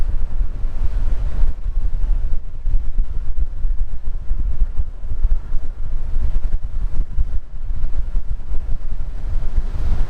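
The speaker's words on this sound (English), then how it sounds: "We're really hitting the wind now." Gusty wind buffets the microphone while riding an AIMA Santa Monica e-bike at speed, a loud, low rumbling roar that pulses continuously with no speech.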